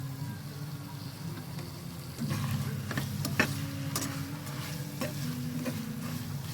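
Tomatoes and onions fry in a pan for biryani, a low sizzle that swells midway, with sharp clinks and scrapes of stirring over a steady background hum.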